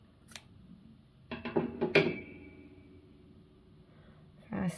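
Scissors snip the yarn tail of a crochet piece, a short cluster of sharp metallic cuts up close, with soft handling noise around it and a voice speaking briefly.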